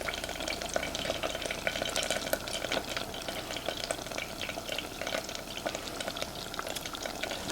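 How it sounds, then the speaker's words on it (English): Butter melts and foams in a pot, a soft continuous sizzle with fine crackling pops, faint and close, steady from start to finish. "Butter is starting to foam."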